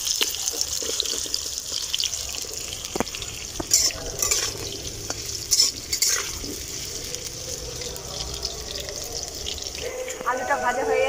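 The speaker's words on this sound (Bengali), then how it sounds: "আলুটা ভেজে নেব। তেল গরম হয়ে গেছে।" Potatoes fry in hot oil for a Bengali desi chicken curry. A continuous close sizzle with occasional stirring clatters runs under intermittent talking.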